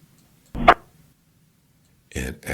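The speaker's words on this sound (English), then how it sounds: "this is followed by the sound of the gunshot" A recorded gunshot from the Trump assassination attempt, heard as a short sharp crack on a quiet background, followed moments later by a second loud burst.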